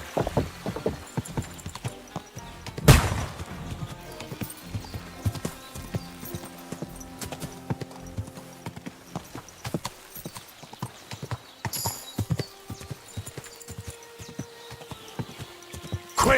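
Horse hooves clip-clop at a steady walking rhythm in Kingdom Come: Deliverance II, with a loud whinny near the start and faint background ambience.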